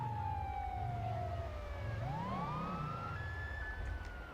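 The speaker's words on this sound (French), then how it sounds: "on va mettre les sirènes" A wailing police siren in a video game sweeps up and down continuously over a steady low engine rumble, loud and close, with no voices.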